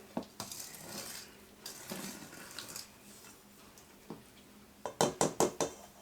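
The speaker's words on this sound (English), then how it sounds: "I don't want to break the enamel on my bowl, so I'm going to quit pecking on it" A spoon pecks on an enamel bowl while brownie batter is mixed, soft scraping and stirring giving way to a close burst of five sharp, ringing taps near the end.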